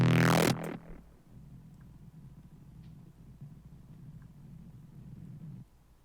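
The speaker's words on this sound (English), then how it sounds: "There's like this low-level grinding sound." Low, steady grinding rumble of synth feedback, faint and continuous for several seconds after a brief loud burst at the start, then cutting off near the end; no voices.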